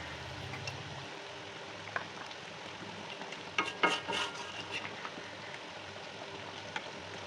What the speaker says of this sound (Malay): kita teruskan lagi Memasak dengan api perlahan serta tutup kuali ini dengan penutup ya